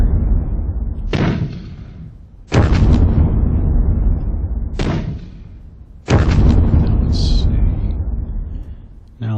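Artillery opening barrage in a World War II strategy video game: four heavy booming blasts a couple of seconds apart, each with a long rumbling decay, loud and close over continuous low battle noise.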